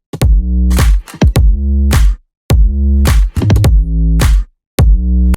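Programmed drums in a remix production, playing as punchy bursts of booming low kick and bright hits in a steady repeated pattern, loud and alone with short gaps between phrases.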